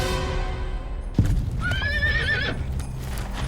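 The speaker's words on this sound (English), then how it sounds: "Brownie's horse suddenly reared and crashed down, crushing his foot." A horse rears and lets out a loud, wavering neigh close by, preceded by a heavy thud of hooves crashing down.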